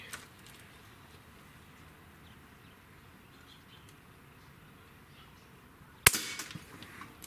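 A Barra 1866 Cowboy Series airgun fires a single sharp shot near the end, a loud crack rising out of quiet room tone and trailing off briefly.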